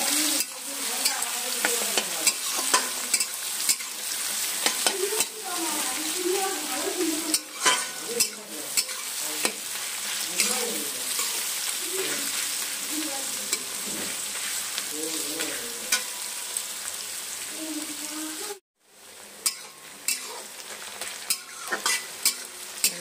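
Sliced onions fry and sizzle in a pan of hot oil while a spoon stirs and scrapes through them, a steady crackle with utensil clinks and one brief gap.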